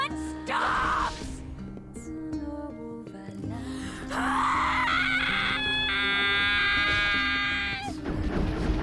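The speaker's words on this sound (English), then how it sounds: "That's a good scream." A character screams in the video game NieR Gestalt, a long, loud, strained cry that rises and sustains in piercing bursts over a tense musical background, with no speech.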